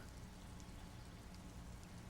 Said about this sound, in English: Even the rain feels nice.